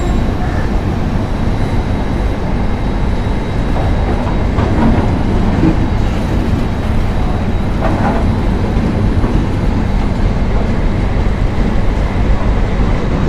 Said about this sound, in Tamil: சென்னை டு பெங்களூர் வந்து டெய்லி ரன் ஆகக்கூடிய ஒரு ட்ரெயின்